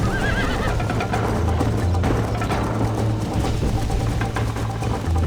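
In the video game Red Dead Redemption, a horse whinnies loudly while hooves clip-clop at a quick gallop, close by, over a low steady rumble.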